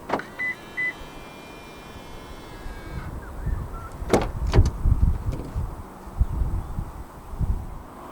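A 2023 Toyota Vios 1.5 G unlocks from a press on the ribbed door-handle area. Two quick beeps are followed by a latch clunk and a motorised whir as the side mirrors fold back out, with some rustling nearby.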